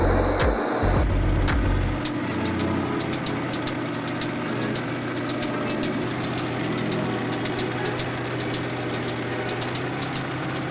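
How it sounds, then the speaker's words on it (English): Large displacement diesel engine of a Caterpillar 988B wheel loader, heavy industrial machine, idling steadily with a deep low rumble and faint knocking, loud and continuous after a brief clank at the start. "The Caterpillar 988B immediately shows its class as an industrial giant. The large displacement engine roars like thunder"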